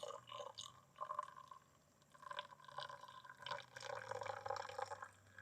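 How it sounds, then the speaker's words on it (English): Boiling water is poured over a coffee bag at a car-camping setup, giving a soft, uneven trickle and splash that comes in several bursts with short pauses between. "we're just going to give that a pour"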